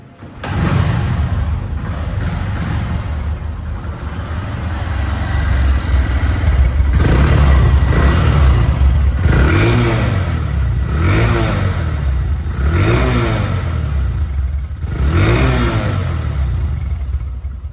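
A Honda Livo motorcycle engine idles steadily, then revs up repeatedly in rising and falling surges, loud and close, with no talking.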